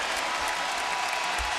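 Basketball crowd at a Butler home game against Providence, a dense roar of cheering and applause filling the arena, loud and continuous throughout.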